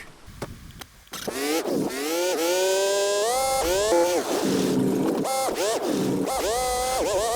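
A car engine in the driving game Mon Bazou starts with a few clunks, then revs up and down through rising and falling tones, loud and close, with brief drops between gear shifts.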